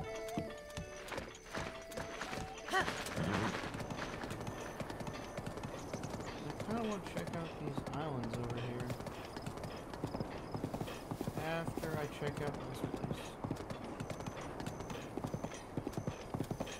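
Giant horse hooves clip-clop steadily in The Legend of Zelda: Breath of the Wild, a rapid galloping rhythm with a neigh, under game music and a voice talking over it.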